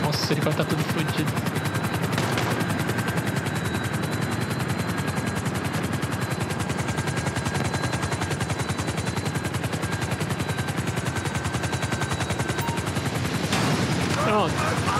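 Helicopter rotor drone with bursts of automatic gunfire in GTA V, a dense, continuous wash of chopping and firing throughout, with talk running over it.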